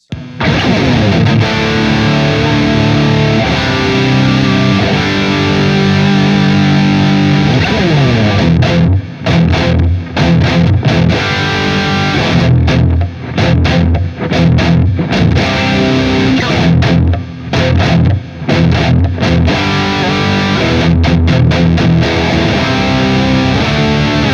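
A heavily distorted electric guitar plays chords and riffs through an overdrive distortion pedal, loud and saturated, with brief pauses between phrases and no talking.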